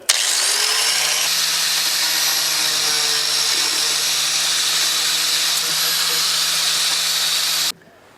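A small saw cuts through the plastic bottom of a Chevy air box, making a loud, steady, close whine that runs unbroken for about seven and a half seconds, then stops abruptly.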